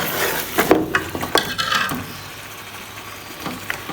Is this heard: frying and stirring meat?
yes